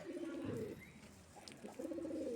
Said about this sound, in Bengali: কবুতর দেখছ কতগুলো কবুতর দেখছ হুম দেখছ ভুট্টা খাইতেছে